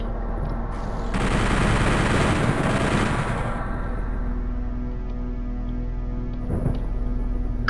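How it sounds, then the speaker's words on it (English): Rapid bursts of gunfire ring out while shooting enemies in the video game Doom 64. A dense volley lasts about two seconds, then sparser shots sound over a steady game background hum, and a brief burst comes near the end. "I'm gonna do the easy way and just shoot him from down here"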